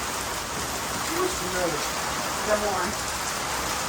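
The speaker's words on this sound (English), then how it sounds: "It is like really raining outside." Steady heavy rain falling outside, a dense continuous hiss throughout, with a person speaking briefly over it.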